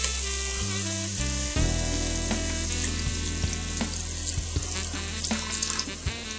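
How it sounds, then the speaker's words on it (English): Beef broth hitting a hot pan during French onion soup cooking, a sudden loud hiss and sizzle that settles into steady bubbling and crackling, close by with no talking. "I'm now going to add my beef broth"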